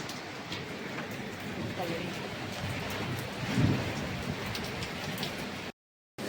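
Steady rain from a windy thunderstorm patters and hisses throughout, with a brief low thump midway and a short silence near the end.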